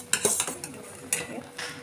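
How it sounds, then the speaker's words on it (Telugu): A utensil stirs and scrapes a pan of butter as ghee separates, giving several close metallic clinks and scrapes in an uneven rhythm over a faint sizzle. "ఇలా కలుపుకుంటూ ఉండాలి లేకపోతే అడుగు మాడిపోతది"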